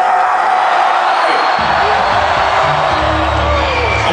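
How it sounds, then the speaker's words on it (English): Crowd at a heavy metal concert cheering, whooping and screaming loudly and continuously, a dense roar of many voices with low stage rumble building underneath. "I want you guys to make some noise"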